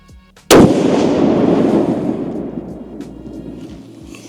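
A single loud rifle shot from a 28 Nosler long-range rifle, a sharp blast close by followed by a long rolling echo that fades over several seconds outdoors.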